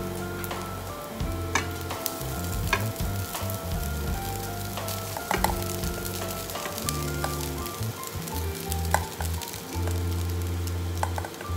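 Quinoa and onion fry in a pan for a Filipino-style meal, making a steady close sizzle broken by scattered crackles and pops, with occasional scraping and clinking from stirring utensils.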